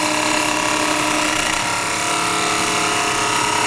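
Gouge bevel rubbing as it takes a light cut into a turning bowl on a wood lathe, a steady whirring, scraping rasp that holds close and even throughout with no pauses.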